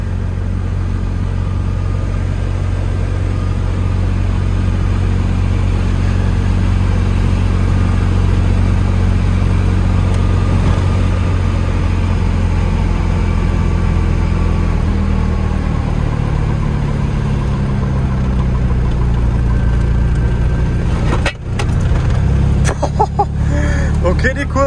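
Ligier X-Too microcar, a small moped car, driving along a country road and overtaking, its small engine droning steadily and loud throughout, with a rougher burst near the end.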